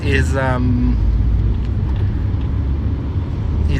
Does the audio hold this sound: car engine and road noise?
yes